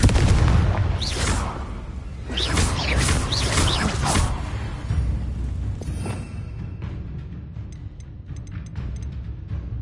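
Confringo fire spell in the video game Hogwarts Legacy bursts with a loud booming blast and roaring rumble that slowly fades into crackling debris and faint chimes.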